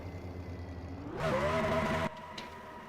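A stock car in a NASCAR-style racing video game at Michigan does a burnout: a steady engine drone swells into a loud, rising revving roar for about a second, then cuts abruptly back to a quieter hum.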